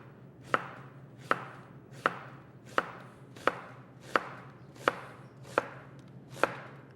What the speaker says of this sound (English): You want to position the onion closer to the end of the cutting board, knife in place